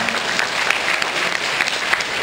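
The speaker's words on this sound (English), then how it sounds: "Let's give a round of applause for that." An audience at a film cast and director event applauds, a dense, steady clatter of many hands at fairly close range, holding level throughout with small bright peaks of individual claps.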